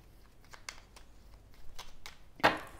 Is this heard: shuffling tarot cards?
yes